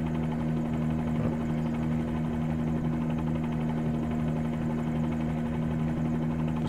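A Bell 47-G2 helicopter in Microsoft Flight Simulator gives off a steady engine drone and a rapid, even rotor chop from the cockpit. The sound stays constant and fairly loud throughout.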